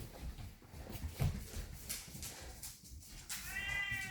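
A female cat in heat meows and yowls near the microphone, a drawn-out tonal cry breaking through at the end over faint room noise.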